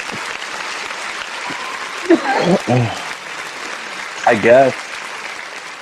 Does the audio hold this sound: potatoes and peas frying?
no